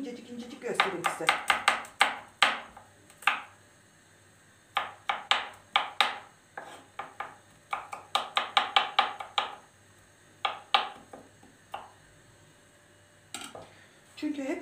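Vegetables chopped finely with a knife on a board in a home kitchen: crisp rapid clusters of close knife strikes with short pauses between runs, under a low room hum.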